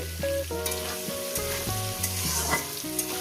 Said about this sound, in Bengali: মিনিট চার ধরে আমি ভেজে নেব এই কুমড়ো ভাজার মধ্যে দিয়ে দেব হলুদের গুঁড়ো